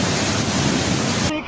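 A flooded river rushes through General Santos City as a loud, unbroken roar of churning water that cuts off sharply near the end.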